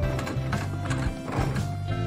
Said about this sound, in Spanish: ¡Este es un carruaje rosa! ¡Y tiene un caballo!